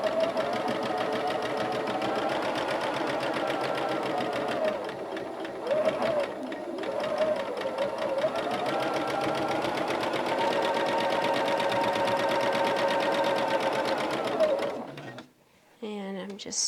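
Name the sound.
sewing machine sewing quilt rows together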